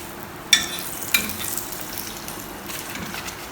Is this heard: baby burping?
no